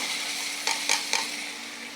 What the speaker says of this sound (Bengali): কড়াইটা নড়ে, কারেন্টের চুলা।